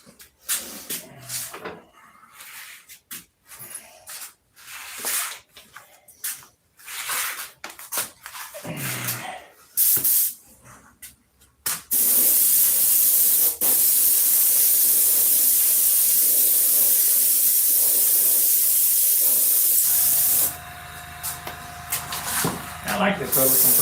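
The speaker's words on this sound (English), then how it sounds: "I like this little compressor. It's quiet." A small, quiet air compressor runs with a loud, steady hiss that holds for several seconds, then shifts to a lower, even running tone. Scattered knocks and handling noises come before it.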